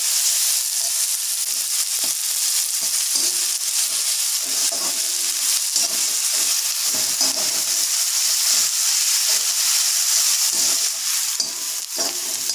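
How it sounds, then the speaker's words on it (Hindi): Onions frying in a pan until brown for tomato chutney, a continuous bright sizzle and hiss with soft stirring scrapes, close and steady throughout. "हम अच्छी तरह भून लेंगे, ब्राउन कलर आने तक।"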